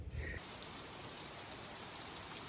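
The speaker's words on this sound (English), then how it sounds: "So we got even more rain, everything's out." Steady rain falls outdoors, an even, dense hiss that continues without a break throughout, after a brief muffled bump at the very start.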